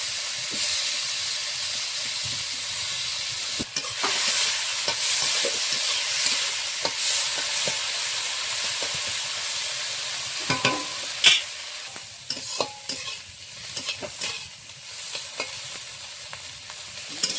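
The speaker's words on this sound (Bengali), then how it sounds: "কড়াতে মাছ ভাজার জন্য সর্ষের তেল দিয়েছি মাছগুলো ভেজে" Small shrimp frying in mustard oil in a wok, a loud continuous hissing sizzle with bursts of crackle and occasional stirring scrapes and clinks, close up with no talk.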